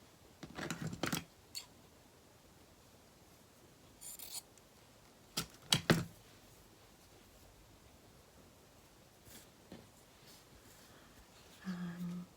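Scissors snipping gold material for a handmade craft tag, a few short, close cuts and light rustles separated by quiet pauses.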